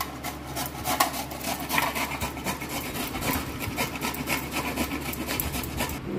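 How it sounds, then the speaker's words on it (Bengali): A peeled raw green mango rubbed against a grater, giving a steady, dense scraping rasp that runs close and continuous throughout without talk. "এখানে একটা আম আমি খোসা ছাড়িয়ে নিয়েছি, আমটাকে আমি গ্রেট করে নিচ্ছি।"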